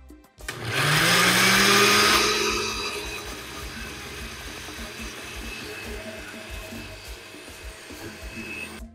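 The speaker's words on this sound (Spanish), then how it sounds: "Y con el agüita que pusimos a humectar los chiles, los vamos a moler." A kitchen blender whirs loudly as it purées water-soaked chiles with garlic cloves and pepper for diabetic-friendly tamales, starting with a sharp motor rise, roaring for a couple of seconds, then settling into a steadier, quieter grinding hum.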